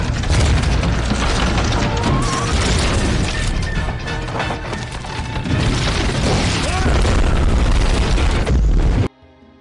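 A film explosion in a collapsing floating house: loud, dense crashing and booming with rumbling debris, sustained and chaotic, then an abrupt cut to near silence at the end.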